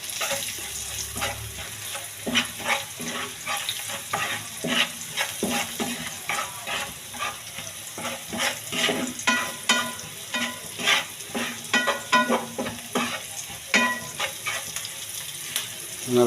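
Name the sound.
stirring hilsa-head greens with chili powder in a pan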